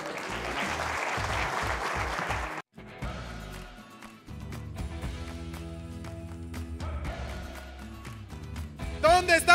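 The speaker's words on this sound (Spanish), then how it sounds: "un aplauso a todos" Live show audience applauding in a dense, steady wash for a few seconds, then a brief gap and music with scattered crowd noise and cheering rising at the end.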